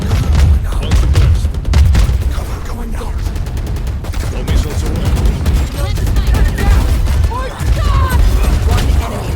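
Rapid gunfire in the video game Valorant, dense bursts of shots running almost the whole way through, loud and close, with people talking over it.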